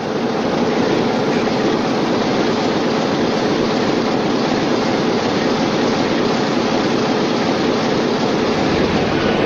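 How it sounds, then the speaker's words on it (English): Class 46 diesel locomotive 46008 pulling out of Derby, a loud, steady engine roar with rumbling rolling stock close by, continuous and unbroken, no voices. "46008 pulls out of Derby in August 1975 while heading for the Western region"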